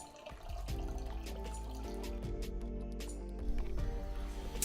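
Alkaline water poured into a wine glass, a steady close trickle of liquid that runs for several seconds with a brief splashy surge near the end, quiet and alone.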